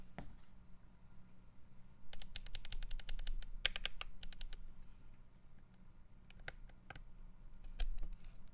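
Keystrokes on a Keychron Q1 or GMMK Pro mechanical keyboard fitted with purple panda switches, close and crisp, with quick clusters of clicks separated by short pauses and single taps over a low steady hum.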